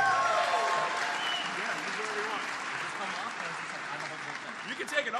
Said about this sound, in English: this is where you clap for Tommy and Peter